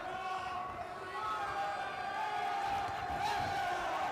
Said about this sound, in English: Crowd willing him on.